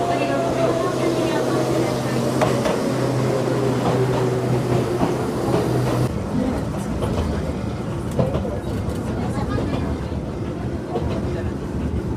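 An Enoden train rolls past near a small station with a loud, steady rumble and a humming motor tone that cuts off midway, leaving rolling wheel noise and clatter, with talk mixed in.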